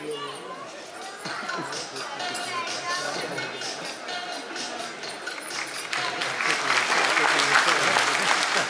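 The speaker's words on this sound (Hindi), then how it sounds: "जोरदार तालियां एवरीवन।" Audience applause at an award ceremony, with a full crowd clapping continuously and swelling louder toward the end, mixed with some chatter and a voice speaking over it.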